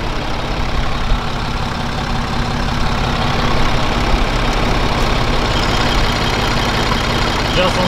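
A BMW N57 diesel idles steadily in an F01 after a timing chain replacement, a smooth even rumble heard up close, with someone talking over it.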